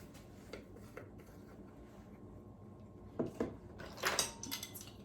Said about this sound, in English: Now, I think I'm going to put this bowl back in here.